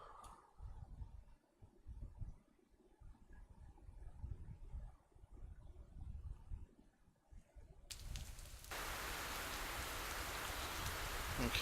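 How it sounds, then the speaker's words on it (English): Rain in the DCS World flight game, a soft patter under low rumbling, then a louder steady hiss of rainfall filling the last few seconds. "so I can hear the rain"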